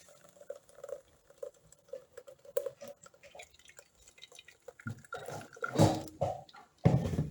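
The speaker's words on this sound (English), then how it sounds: "Pouring it into my sift." Homemade fruit juice is poured through a kitchen sieve, making soft, irregular drips and patters that build into a louder, splashing trickle near the end, with no voices over it.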